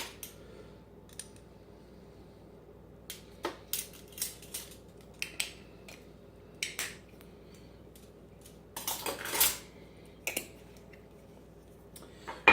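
A lid comes off a soup pot during Southwestern soup cooking. Light, faint metallic clicks and small clatters occur sporadically, with a short cluster of louder rattling toward the end.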